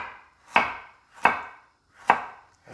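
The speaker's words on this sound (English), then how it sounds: "try to cut them almost on the same size" Three crisp knife chops through vegetables on a cutting board for Jamaican peanut and gungo peas ital soup, spaced evenly about two-thirds of a second apart, close and clear with no talk.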